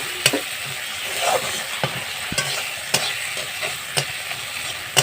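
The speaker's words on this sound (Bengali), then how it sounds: "তো পেঁয়াজ বাটাটা নেড়ে চেড়ে নিচ্ছি" Onion, cumin and garlic paste fries in a pan under a soft, constant sizzle while a spatula stirs it, knocking the pan in scattered sharp taps.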